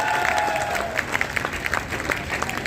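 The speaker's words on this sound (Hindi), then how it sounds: "जोरदार तालियों से आप उसका स्वागत करें।" At a Hindi poetry gathering (kavi sammelan) in Shamshabad, an audience claps to welcome the poet Kavita Tiwari, applause fading into scattered claps under a voice.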